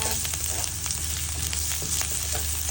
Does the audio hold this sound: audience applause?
no